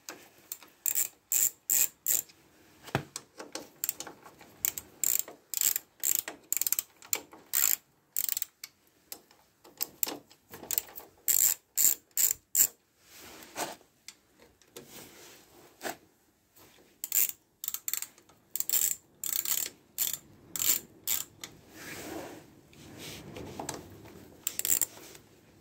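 A ratchet unscrews the casing of a scooter, giving rapid close-up bursts of clicking ratchet strokes, loud and crisp, separated by short pauses, over about twenty-five seconds with no talking.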